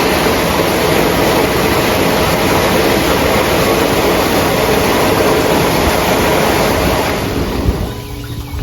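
A hot tub's waterfall feature pours water in a loud, steady, close rush, then drops off sharply near the end, leaving quieter background noise.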